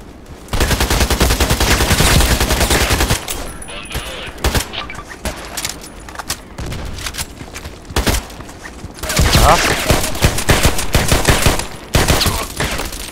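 Rapid automatic gunfire in the online shooter Contract Wars, loud dense bursts of shots separated by short pauses, with a voice talking faintly underneath.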